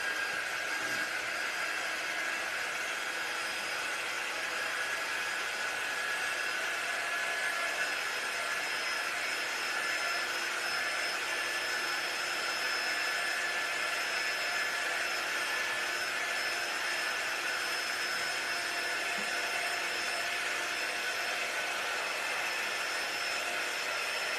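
A hair dryer blows steadily on a damp fabric watermelon stuffie, a continuous even whoosh with a faint high whine, close and unbroken throughout.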